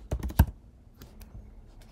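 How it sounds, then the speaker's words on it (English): Short burst of computer keyboard typing, a quick cluster of close, crisp key clicks followed by a few softer taps and near silence. "I'm just going to type in course invoice"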